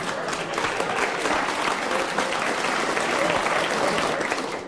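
A variety show audience applauds steadily, with a dense wash of clapping from a crowd that holds at an even level throughout.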